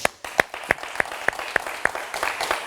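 A studio audience on the TV show WAM claps in a run of crisp, evenly spaced beats that blend into general applause toward the end.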